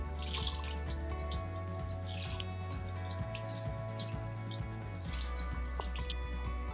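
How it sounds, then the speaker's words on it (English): Water running and dripping while a wound is washed for first aid, a faint steady trickle with scattered splashy drips close by, no talking. "and wash your wound."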